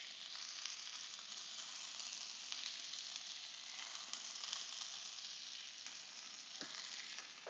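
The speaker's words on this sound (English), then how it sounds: "Burgers cooking," Turkey burgers sizzle in a pan, a constant dense hiss with faint crackles and a few small clinks, heard close and without talk.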